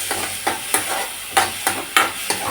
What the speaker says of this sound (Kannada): ಪಾಸ್ತಾಗೆ ಸ್ವಲ್ಪ ಫ್ರೈ ಮಾಡ್ಕೋಬೇಕು.